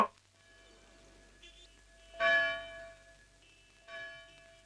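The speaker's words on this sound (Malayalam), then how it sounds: "പള്ളിമണി കേൾക്കുന്നുണ്ട്." A church bell rings faintly through a phone line, with a couple of muffled, tinny strikes over a low electronic hum.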